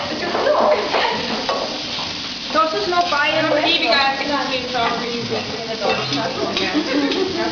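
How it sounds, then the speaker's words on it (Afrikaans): Meat sizzles and crackles in a pan during a Thai cooking class, with constant frying noise and occasional stirring clatter under people talking. "julle kan dit uithaal en daar in daai bak sit en dan gaan hulle net braai"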